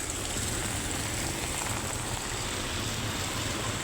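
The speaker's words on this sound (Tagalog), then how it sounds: "Malakas yung hangin, malakas din po yung buhos ng ulan." Heavy rain pours steadily in a continuous dense hiss and patter on surfaces, with strong wind, near a gas station during a storm; no voices.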